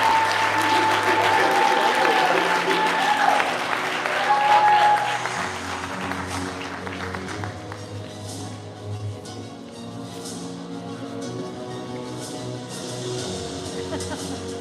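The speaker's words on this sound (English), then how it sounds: "let's give a round of applause to Sergeant Angel R.A. Santos IV" Applause from the audience at the 2024 Guam Police Department promotion ceremony, loud at first, then thinning after a few seconds as music or a hum carries on beneath a softer, scattered patter.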